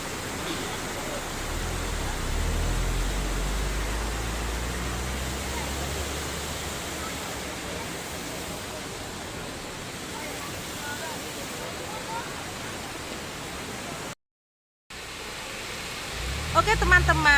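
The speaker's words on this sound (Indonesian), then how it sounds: "air terjun Delundung ini adalah dulunya sebuah air terjun yang elok yang terletak di Gunung Penanggungan" Dlundung waterfall on Mount Penanggungan in Trawas, a shallow pool below, pours as a steady broadband roar throughout, with a short gap near the end and a voice murmuring over the rushing water.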